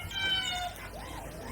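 A pet cat meows once, close and fairly loud, a short rising cry at the start followed by quieter faint mewing sounds, with background room noise.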